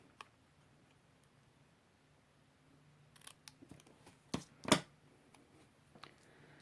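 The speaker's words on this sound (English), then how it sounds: "to make a banner, you just cut up along the middle and then come from the diagonals up to the middle." Scissors cut a paper banner into a diagonal point, giving quiet scattered snips and clicks, faint at first, then a cluster of sharper cuts near the end in a very quiet room.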